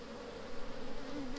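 Honey bees buzz at a hive entrance, a steady, moderately loud drone with slight swells, heard alone and close.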